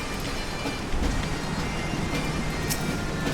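Steady rain in Final Fantasy XIV Heavensward makes a dense, even hiss with a faint low rumble underneath, continuous and moderately quiet with no talk.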